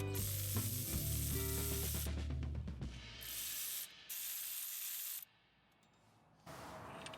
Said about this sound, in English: Hand tighten the hub assembly bolts and then snug them tight.